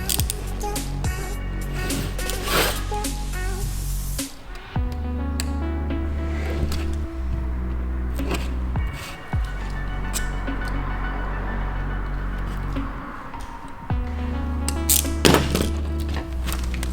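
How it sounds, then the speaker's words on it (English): A cutter trims window tint film, giving scattered sharp cracks, thunks and scraping strokes with brief pauses between passes, close and moderately loud. "I'm going to trim both sides"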